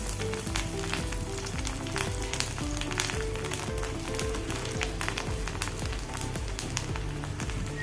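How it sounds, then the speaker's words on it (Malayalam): Chopped garlic sizzles in a pan of hot oil for mango ginger pickle, a steady, crackling fry heard up close over soft background music. "വെളുത്തുള്ളി ഒന്ന് വാടി വന്നാൽ മതി"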